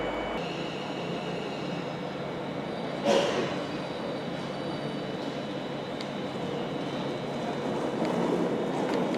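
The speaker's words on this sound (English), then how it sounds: "You're filming a train arriving into Crewe" London Northwestern Railway train arriving into Crewe station, a steady rumble of rolling stock with a sharp clank partway through and faint wheel squeal, heard from the platform.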